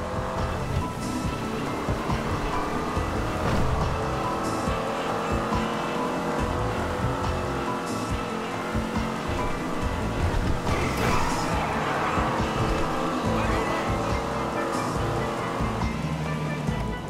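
Video game car from Grand Theft Auto V driving steadily, a continuous engine drone with tire and road rumble filling the whole stretch at even loudness, with no voices over it.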